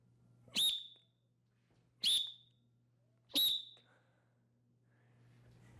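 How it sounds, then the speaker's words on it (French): Three short, sharp whistle blasts signaling the start in a karate class, evenly spaced about a second and a half apart, clear and fairly close against a quiet background hum. "En même temps que le sifflet, n'oublie pas."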